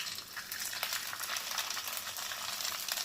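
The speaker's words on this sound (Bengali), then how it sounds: "এবারে আমি আস্তে আস্তে এটা গ্রেট করে নিচ্ছি, যে তেলে একটু একটু করে পড়তে থাকছে" Grated food drops bit by bit into hot oil while making semolina pulao, a continuous crackling sizzle with small spattering bursts, close and steady, with no talking.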